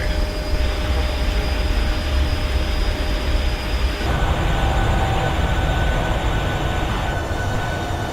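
Boeing 737NG jet engines roar steadily through a Ryanair takeoff roll on runway 28, a loud, continuous broadband rush with whining tones that shifts character partway through.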